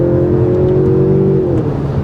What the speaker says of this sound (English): And that's the sound of the 4-cylinder